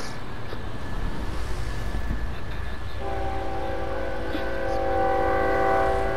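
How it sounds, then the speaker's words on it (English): Train in the video game Grand Theft Auto V rumbling past loudly, its horn sounding a sustained multi-tone blast in the second half over the steady roar of the cars. "And there's the freaking train."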